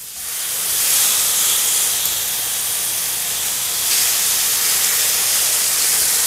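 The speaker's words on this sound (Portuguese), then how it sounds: "Vamos grelhando de cada lado." Tilapia fillet searing in a very hot frying pan, a steady loud sizzling hiss that swells as it starts and continues unbroken for several seconds, with no talking over it.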